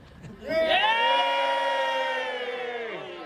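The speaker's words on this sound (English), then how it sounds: "Go ahead and cheer for Buford B. Big-Hearted." A studio audience at a radio theater performance cheers and whoops for the play's hero, a loud swelling burst of voices that rises quickly and holds before tapering off.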